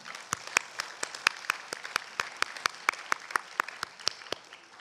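Applause at a closing church worship service after a fasting retreat: sparse, fairly faint hand claps from a small group, sharp and fairly even in rhythm at two to three claps per second.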